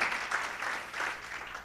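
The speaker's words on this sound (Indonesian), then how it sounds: "berikan tepuk tangan yang lebih meriah bagi Tuhan" A church congregation applauds during a worship service, a full, even wash of many hands clapping in a reverberant room, moderately loud and sustained without pause.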